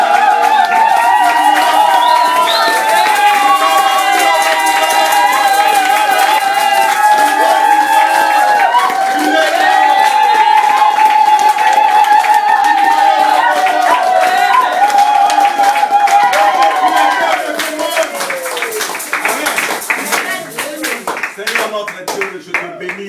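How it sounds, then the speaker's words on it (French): A congregation at a church gathering in Paris claps and cheers in a dense, steady roar that carries on for about twenty seconds, with voices shouting and singing through it, easing slightly toward the end. "Tu as entendu ces acclamations et ces cris"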